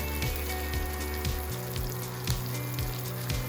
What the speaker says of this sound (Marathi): तीन ते चार बारीक चिरलेल्या हिरव्या मिरच्या एक बारीक चिरलेला उकडलेला बटाटा हे टाकून त्याला आपण एक ते दोन मिनटं छान परतून घेऊया